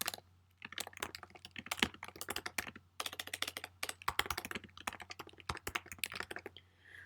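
Quiet computer keyboard typing as a title is entered, bursts of quick clicky keystrokes with short pauses between words, close and alone over a faint hum.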